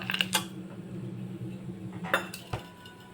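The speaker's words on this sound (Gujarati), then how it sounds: "હવે પાંચ કે છ છ નંગ જેટલા આઈસ ક્યુબ એડ કરશો" A few hard clinks as ice cubes drop into a mixer jar, sharp knocks scattered over a low background hum, close by, no voices.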